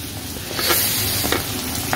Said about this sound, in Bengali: একটু একটু ভেজে নিই